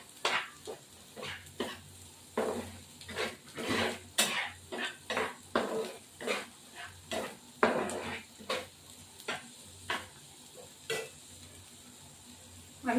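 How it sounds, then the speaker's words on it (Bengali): Spice paste for a thin tengra fish curry being fried and stirred in a pan, with a quick series of sharp spatula knocks and scrapes against the metal over a soft sizzle, close and with no talk. "দেখো তো মশলাটা একটু কষানো যায়।"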